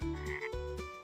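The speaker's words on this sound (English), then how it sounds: "Frog." A frog croaks twice in quick succession, loud, close and resonant, each call a drawn-out throaty rasp standing alone without any talking.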